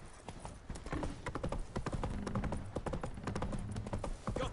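The horse Roach gallops in The Witcher 3 video game, a fast, steady clip-clop of hooves heard close and continuous throughout.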